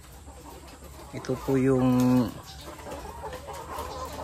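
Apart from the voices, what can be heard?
chickens clucking in egg layer building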